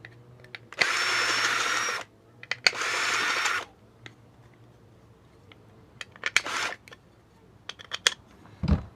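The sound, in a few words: drill making holes in a race bike part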